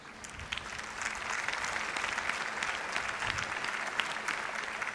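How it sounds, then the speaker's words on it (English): Steady round of applause from a convocation audience honoring university media department students, dense continuous clapping throughout with a faint voice or two underneath. "A big round of applause for our students of the media department"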